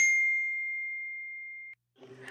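A single bright notification ding from a phone announcing an incoming text message, ringing clearly and fading out over about a second and a half before a brief faint rustle.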